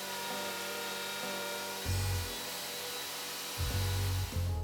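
A handheld router cuts slots into wood for bookrests on floating shelves, giving a loud, steady motor whine close by, with two heavier, deeper bursts as the bit bites into the workpiece.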